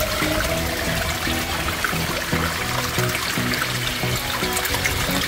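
Clear mountain stream water rushes and gurgles steadily near a refill spot on a trail up Mount Guiting-Guiting, a loud continuous wash of flowing water with no talking.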